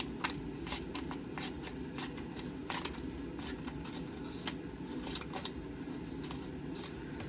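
Scissors snip paper into fringe for a handmade Mother's Day card, a quiet, rapid series of close crisp cuts and rustles continuing throughout, no voices.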